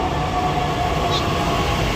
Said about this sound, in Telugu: మనం ఎక్కాల్సిన ట్రైన్ అయితే వచ్చేసింది.